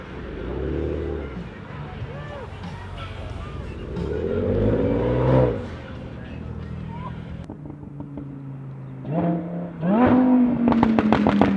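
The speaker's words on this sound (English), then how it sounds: "Oh, it's the Velociraptor 6x6 truck." A Velociraptor 6x6 truck drives past at the 2018 Gold Rush Rally in Scottsdale, its engine swelling and revving near the end over a continuous rumble of traffic, with people talking throughout.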